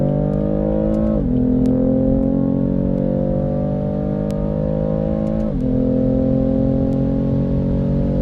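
A BMW M4 (F82) engine revs hard at full throttle during a 100-200 km/h run, climbing steadily in pitch, with two quick gear shifts dropping the note before it winds up again; loud and close.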